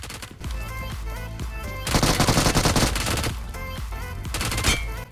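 A powerful new gun fires in BGMI during a close 1v1 fight: rapid automatic bursts rattle loudly, with a short pause, then a longer sustained burst and a final stutter of shots over faint game music.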